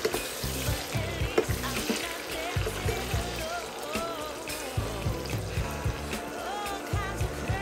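Prawns with chili frying in an oily pan make a strong, continuous crackling sizzle, close and steady, with occasional stirring scrapes and a low rumbling hum underneath.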